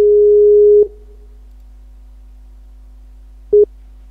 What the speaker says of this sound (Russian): Сейчас звоню еще раз.